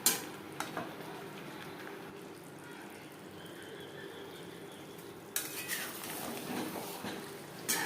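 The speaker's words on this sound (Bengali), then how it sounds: "বেশ ভালো করে মিক্স করে দেব হাই টু মিডিয়াম ফ্লেমে চার পাঁচ মিনিট রান্না করবো" Potatoes cook in mutton fat on high to medium flame for aloo dum, a low steady sizzle with occasional stirring and utensil clinks, getting louder toward the end.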